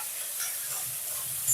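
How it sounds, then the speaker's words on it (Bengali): Grated ginger and softened tomato fry in a pan with a steady, close hiss and faint stirring scrapes throughout the short stretch. "এরপর এটাকে ভালো করে ভেজে নেব, যতক্ষণ না আদার কাঁচা গন্ধটা"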